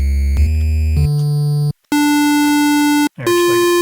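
Nintendo-style chiptune square wave tones: a few short loud synthetic buzzy notes at different pitches, separated by brief silences, with no talk.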